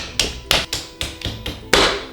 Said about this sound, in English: It's not so much about slamming it down as it is once it's on there, really patting it.